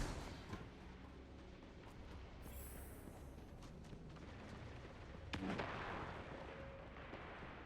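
Gunfire from a weapon in Destiny 2 shot into a doorway, with a steady run of dense, close bursts over a wash of game noise and a louder blast near the end.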